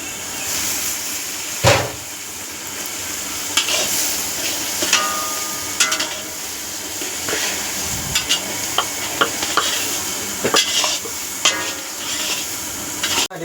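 Tomatoes and onion fry in a hot tempering for sambar with a steady close sizzle, and a spoon scrapes and taps against the pan again and again.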